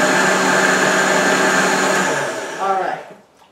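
A blender whirs steadily while pureeing peaches for peach tea punch, a loud motor whine that slows and winds down in the last second.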